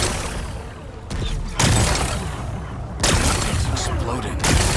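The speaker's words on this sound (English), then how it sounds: "It's exploding." Rocks are blasted apart in the video game Horizon Forbidden West, a dense, roaring din punctuated by three heavy explosive bursts about a second and a half apart, with voices talking amid the noise.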